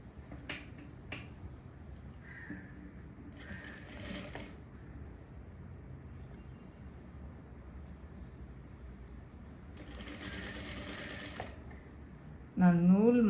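A sewing machine stitches blouse back-neck piping with blue thread in short mechanical bursts, quiet against a low room background, with a couple of brief louder runs and a sharp snap-like tick near the start.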